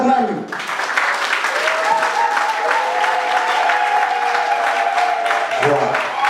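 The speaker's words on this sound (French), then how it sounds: "je demande à applaudir très fort pour vous-même" Loud, sustained applause from a crowd at a flat inauguration celebration in Kinshasa's Kasavubu district, filling the whole span with dense clapping and cheers as a voice briefly calls out near the end.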